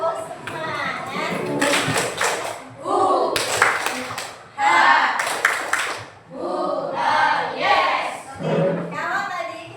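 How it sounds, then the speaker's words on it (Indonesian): A classroom of pupils doing a rhythmic spirit clap, bursts of group clapping mixed with children's chanting voices and shouts, close and loud in a lively room. "Ayo, tepuk semangat."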